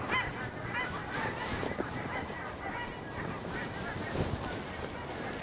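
A crowd of waterfowl honks and quacks continuously, many birds calling over each other at close to moderate distance.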